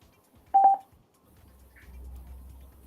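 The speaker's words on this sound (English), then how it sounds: "Somebody's phone's like freaking out." A phone emits a short burst of quick electronic beeps, fairly close, followed by low background room noise at a comics industry panel.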